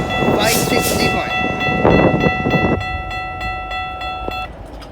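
Train moving through Newmarket junction, with a cab car, rumbling under a steady tonal whine and a horn-like chord; broadband rolling noise surges early, then eases as the train recedes, with faint talk nearby.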